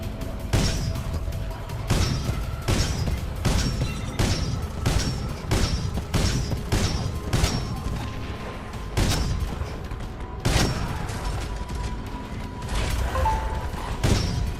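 Rapid bursts of heavy tracker cannon fire in Titanfall 2, repeated booming shots roughly every half second, loud and close over a rumbling low background.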